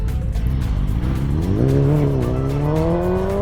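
A motorcycle, either a BMW S1000RR or KTM 1390 on a road trip, revving loudly as it pulls a rear-wheel wheelie, its engine pitch climbing steadily over a constant roar.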